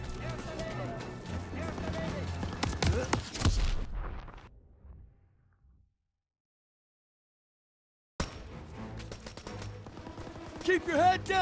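Machine gun fire rattles in the World War II shooter Call of Duty WW2, with bursts of shots amid shouting voices and battle noise, a silent gap, then the fighting and voices resume.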